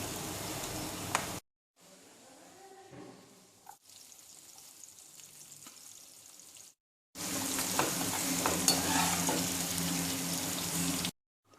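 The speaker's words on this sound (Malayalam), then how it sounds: "ഇനി നമുക്ക് ഈ സവോള കൂടി ഫ്രൈ ചെയ്തെടുക്കാം" Sliced onions frying in a pan for vegetable biryani, a steady loud sizzle broken by short quiet gaps and a softer stretch with light stirring, no talking.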